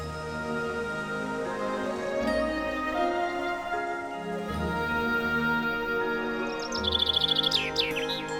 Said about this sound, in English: A pair of ospreys.